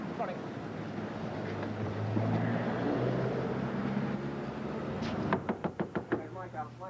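Knocking on a door, a rapid series of about eight sharp raps near the end, loud and close over steady low background rumble.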